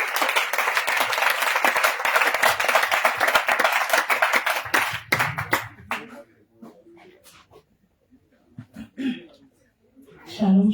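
A church congregation claps and applauds loudly and continuously during a deliverance service, the dense clapping fading after about five seconds into scattered claps, a few voices and quieter room noise.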